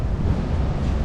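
Strong wind buffeting the microphone, a dense low rumble that stays loud and steady throughout the short moment, with no voices.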